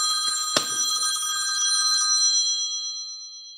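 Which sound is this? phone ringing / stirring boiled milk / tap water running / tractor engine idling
phone ringing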